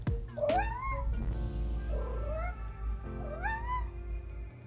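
Alice, a pet cat, meows several times up close, drawn-out rising and falling calls over a steady low hum.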